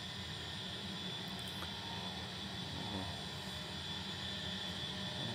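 A small training airplane's engine drones steadily in flight just after takeoff, a constant moderate hum with broadband wind noise inside the cockpit, no talk.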